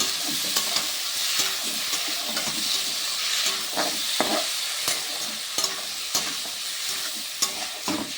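Tomato, green chili, onion and garlic sautéing in oil in a kadai, a continuous close sizzle broken by repeated spatula scrapes and knocks against the pan, with no talking.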